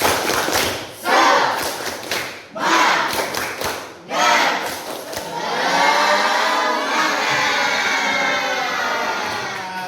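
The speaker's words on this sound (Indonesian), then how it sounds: "tapi siap ya? Nih, 1, 2, 3. Tepuk semangat." A class of schoolchildren performs a rhythmic spirit clap, with several loud bursts of unison clapping separated by short pauses, then the group breaks into shouting and cheering.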